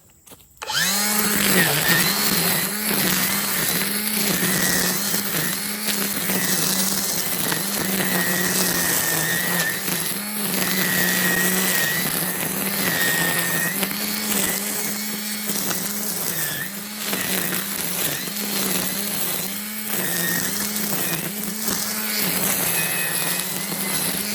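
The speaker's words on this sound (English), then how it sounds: "This Milwaukee brushless battery operated weed trimmer combination tool" A Milwaukee brushless battery-powered weed trimmer combination tool whines steadily as it cuts through tall, thick weeds, its pitch wavering as it bogs and recovers against the growth, loud and close throughout.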